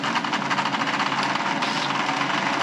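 A spinning wire brush cleaning a TIG welding tungsten electrode, a steady close whirring grind with rapid rhythmic pulsing that runs throughout without pause.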